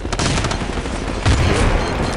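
Artillery strike in the video game Battlefield 2: a loud, continuous barrage of booming blasts and rapid gunfire that swells briefly toward the end, with no talk over it.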